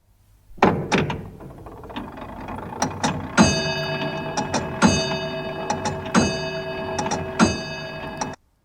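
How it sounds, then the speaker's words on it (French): Downloaded sound effect of an antique pendulum clock: steady, loud mechanical ticks with clunky gear and ratchet knocks, bright ringing overtones from about halfway through, and no talk. "Parfait, une ancienne pendule."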